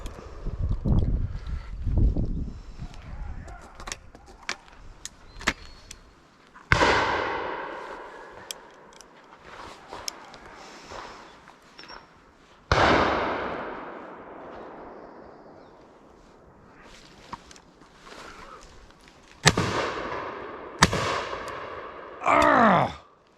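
Shotgun blasts at a driven pheasant shoot at Powis Castle, several loud close reports spaced across the stretch, each with a long rolling echo, over wind rumble and a few faint voices.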